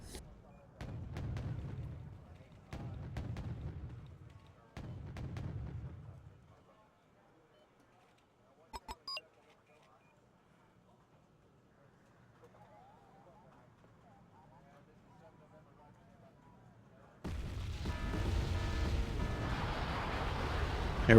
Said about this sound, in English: Here we go with more artillery.